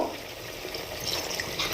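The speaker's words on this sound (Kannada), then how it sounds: "ಇದಕ್ಕೆ ನೀರು ಹಾಕೋತಾ ಇದ್ದೀನಿ ನಾನು 1 ಬೌಲಷ್ಟು" Water pours steadily into a pot of fish head sambar, a soft, continuous splashing close by, fairly quiet and brief, with no voices.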